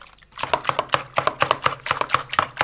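Steady rhythmic knife strokes cutting through a block of butter on a board, about a dozen crisp even taps close up, with no talk.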